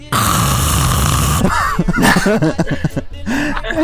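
A person imitates snoring with a loud, rough, rattling vocal snore lasting over a second, then follows with throaty chuckling vocal sounds close to the microphone.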